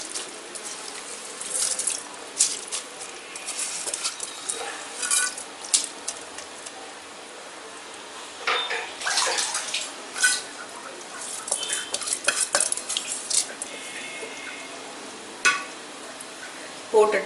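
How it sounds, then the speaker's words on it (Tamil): Drained rice tipped into a pot of boiling water for chicken biryani and stirred, giving scattered splashing, scraping and watery clatter in irregular bursts, fairly close, with no talk. "அரிசி மட்டும் எடுத்து போடுறேன்."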